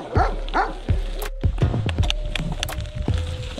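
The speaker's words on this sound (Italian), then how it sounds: "Cani, sempre cani," Several dogs bark repeatedly on a hillside, sharp yaps and deeper woofs overlapping at close to moderate distance, with a short whine amid the noise and no talking.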